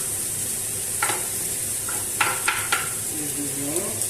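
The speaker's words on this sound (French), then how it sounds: "Nous allons faire revenir nos légumes. Voilà. Nous allons commencer par les oignons." Onions sautéing in a pan for stuffed cabbage with tomato sauce, a steady soft sizzle and frying hiss with a few brief stirring and utensil clinks, no talk over it.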